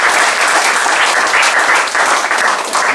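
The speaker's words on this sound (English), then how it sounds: "can we have a huge round of applause and please make some noise for all the 7 awardees" An awards ceremony audience applauds loudly and steadily, a dense wash of clapping lasting throughout.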